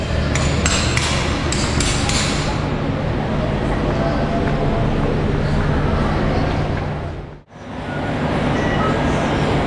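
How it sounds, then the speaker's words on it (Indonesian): A dense, steady roar fills Bandung train station, a continuous wash of rumbling and crowd noise with a few metallic knocks near the start and a brief dip near the end. "Nah ini teman-teman situasi stasiun Bandung."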